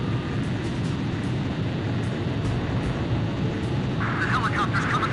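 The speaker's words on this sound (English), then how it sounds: "The helicopter's coming closer." A helicopter in a video game approaches as a steady, low rumbling drone with a faint rhythmic chop that grows slightly busier toward the end. Game voices talk over the sound.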